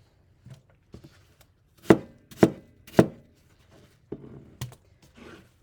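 Apples being chopped on a board for canned apple pie filling: a few sharp, close knife chops spaced irregularly, with a quick run of three in the middle and quiet gaps between, no voices.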